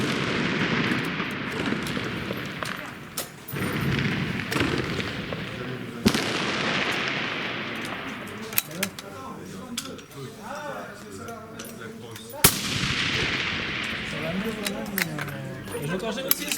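Rifle shots fired one at a time in a slow grouping series to check ammunition consistency, each a sharp loud crack followed by decaying echo, about three clear reports spaced several seconds apart.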